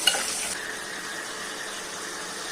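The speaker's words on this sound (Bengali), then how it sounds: "তার এখন পেঁয়াজ ভাজতেছি, মশলা কষাবো।" Onions fry in a pan with a steady soft sizzle, a brief brighter crackle and a light clink at the start, then an even hiss throughout.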